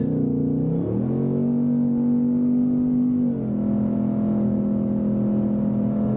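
A 2024 Ford Mustang Dark Horse with a 10-speed automatic, driven hard in track mode, drones loudly and steadily from inside the cabin, its engine note climbing, holding through a gear change and settling into a sustained pull.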